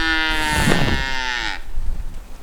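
A horned cow on a cattle ranch lets out one loud, drawn-out call that sinks in pitch and breaks off about halfway through, leaving steady outdoor background noise.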